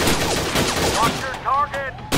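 Pistol shots ring out in the VR shooting game Gun Club VR, a quick run of sharp pops with short ringing tails and metallic pings, while a voice talks in between.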